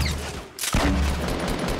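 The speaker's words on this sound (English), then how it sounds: "someone's shooting us." Fortnite gunfire: a muffled stretch gives way to a sudden loud, close blast that carries into a sustained dense rumble of shots.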